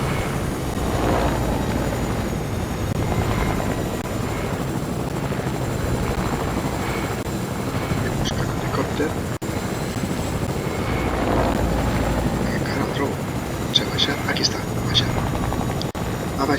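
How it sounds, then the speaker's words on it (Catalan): A helicopter in the Fortnite video game thrums steadily with a loud, continuous rotor and engine drone, joined near the end by scattered sharp game effects while a player talks over it. "Vaig a fer una baralla aèria amb aquell helicòpter."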